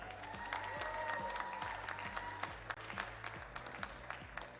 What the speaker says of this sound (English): a round of applause for our referee, Ash Knight.